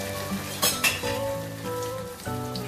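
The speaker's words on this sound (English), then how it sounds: "So now let's deep fry it." Soya chaap coated in cornflakes and breadcrumbs deep frying in oil over a medium-low flame, a steady sizzle with a couple of sharp utensil clinks early on, partly masked by tonal background music.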